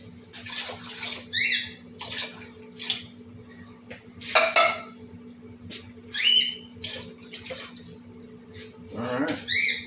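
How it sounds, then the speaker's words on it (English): Water is poured into a cast iron pot for homemade spaghetti sauce, splashing in several separate bursts with clanks of metal between them over a low steady hum. "But yeah, let's get some water in here."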